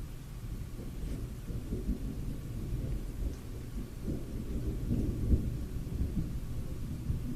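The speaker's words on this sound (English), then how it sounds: "Is thunderstorm right out there?" A thunderstorm rumbles outside with steady rain, a low continuous roar swelling gently around the middle, heard at a distance with no voices.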